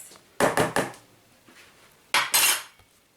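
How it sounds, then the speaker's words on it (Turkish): A lid is pressed onto a bowl of kısır, giving two bursts of sharp clattering knocks, three quick taps and then two more, close and crisp with quiet gaps between. "örtüyoruz kapağını sık bir şekilde"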